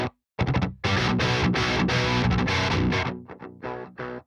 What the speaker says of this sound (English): listen to how the distortion changes when I change the input level